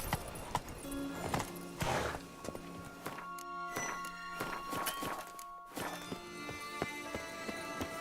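Roach, Geralt's horse in The Witcher 3, trots with a steady clip-clop of hooves, close and moderately loud over game ambience, with a brief pause partway through.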